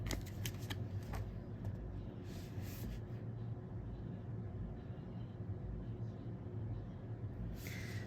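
Tarot cards being shuffled to draw clarifying cards give a soft, steady riffling and sliding over a low constant hum, with a few sharper flicks near the start and end, quiet and close.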